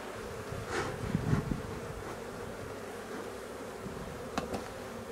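Honeybees buzz thickly around hive frames being smoked before they are shaken, a close, continuous drone with louder swells as individual bees pass near.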